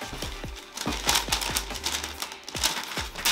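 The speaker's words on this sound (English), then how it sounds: "The paper." Tissue paper inside an Air Force 1 x Mayumi Yamase Flyleather sneaker box being handled, with repeated close crinkling and rustling rising and falling over a low background hum.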